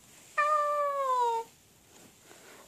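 A single clear cat meow, drawn out for about a second with a falling pitch, close by against a quiet background.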